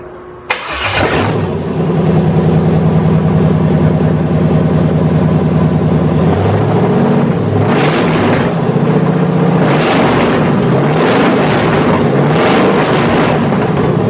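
An S10 pickup engine with an upgraded motor cranks and catches abruptly, then runs loud and rough up close, settling briefly before being revved hard in several surges.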